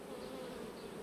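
Honey bees buzz steadily at a beehive, a close, continuous drone with no talking.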